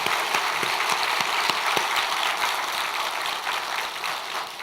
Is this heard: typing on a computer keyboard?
no